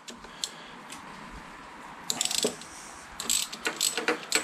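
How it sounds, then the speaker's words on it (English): A ratchet loosening a 12mm bolt on the clip-on handlebar of a 2003 Honda VFR800 VTEC, quiet at first, then two close bursts of rapid clicking ratchet strokes. "Loosen off the 12mm bolt."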